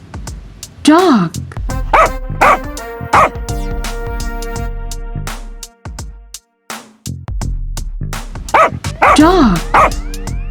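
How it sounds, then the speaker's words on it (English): A dog lets out a quick series of short, sharp barks and yips under a bright children's song, with a sung word before and after. "Dog."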